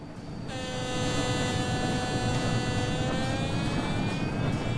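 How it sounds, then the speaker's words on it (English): A locomotive air compressor in Train Sim World drones steadily and loudly after a brief ramp-up, with a strained, sustained whine layered over a rumbling base, and no voices. "Air compressor's having a hard time with this train."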